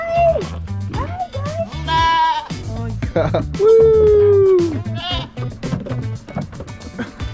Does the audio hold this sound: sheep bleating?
yes